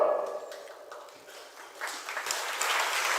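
Listeners at a Jain religious discourse break into applause that starts soft and thin, then swells into fuller, broader clapping toward the end.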